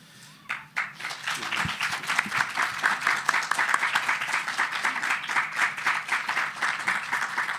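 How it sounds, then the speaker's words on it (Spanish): An audience at a lecture by Mexican writer Jorge Volpi breaks into sustained applause, many hands clapping densely and evenly, swelling quickly then holding steady. "con este aplauso, Jorge, te despedimos."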